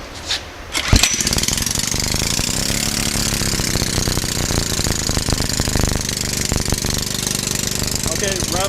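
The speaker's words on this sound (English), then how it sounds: "This is just a 5 horsepower John Deere engine." A 5 horsepower John Deere engine running on hydrogen fuel, starting with a sharp burst and then settling into a loud, steady, rapid-firing chug that holds evenly close by, with a faint voice near the start.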